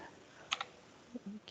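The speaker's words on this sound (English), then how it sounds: "Well, I type, and my typing is not the fastest of typing." A few quiet, slow keystrokes tap on a computer keyboard, sparse clicks in near silence.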